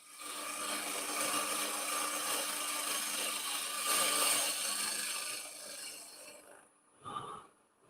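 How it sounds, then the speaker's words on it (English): A gouge pushes through a face grain bowl spinning on a wood lathe, giving a continuous rough hissing scrape that holds steady for several seconds, then fades as the cut stops, ending with a brief rub. "I'll do a little bit of a push cut here where I can get to."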